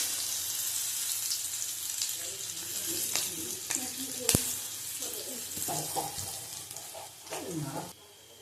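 Green chilies and garlic fry in a pan for a coconut taro-leaf dish, giving a crackling sizzle with occasional stirring scrapes and clinks. A sharp knock comes midway, and the sizzle fades out at the end.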